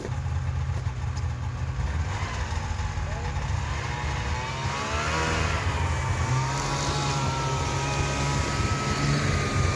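A two-stroke engine with a rich-sounding exhaust hauls water totes to an off-grid cabin in the Alaskan bush, droning steadily up close and then revving higher partway through, with people talking over it.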